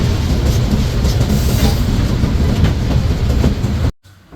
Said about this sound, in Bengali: এই ট্রেনটি হলো ঢাকা থেকে লালমনিরহাটগামী আন্তনগর বুড়িমারি এক্সপ্রেস